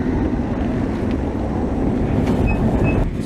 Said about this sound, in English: And here comes the tram.